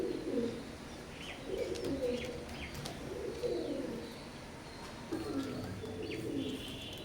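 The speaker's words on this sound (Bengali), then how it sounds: "এখন স্ক্রিনে এক জোড়া কবুতর দেখতে পাচ্ছেন।" Oman blood line teddy pigeons coo softly in repeated low rolling phrases, with faint chirps in between, quiet and fairly close over a hissy background, no voices.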